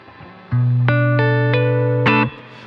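A BOSS GT-1000 guitar modeller plays a few bright, sustained notes through a plate reverb with a side-chained effect, the tones stacking and ringing together before cutting off abruptly instead of decaying naturally.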